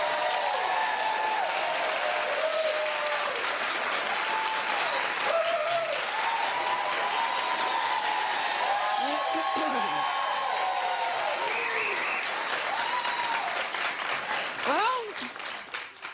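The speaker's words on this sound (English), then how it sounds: "Keep clapping for Katy Perry." A studio audience at a daytime television talk show claps steadily and loudly, a dense continuous wash of applause lasting throughout before tapering at the end, with a host's voice speaking over it.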